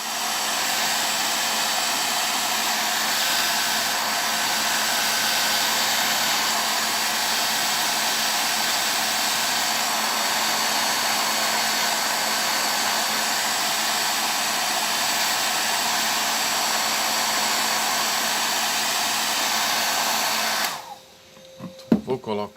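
A hair dryer blows steadily to dry freshly brushed paint on an airbrushing project, a constant loud whir that runs without a break for about twenty seconds before switching off, followed by a few faint handling clicks.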